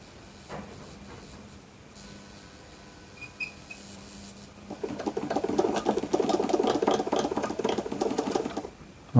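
An old sewing machine, just fitted with a repaired thread tensioner, starts up after a few quiet handling clicks and runs with a steady rapid mechanical patter for about four seconds before stopping.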